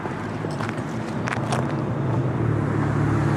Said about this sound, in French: Une bagnole.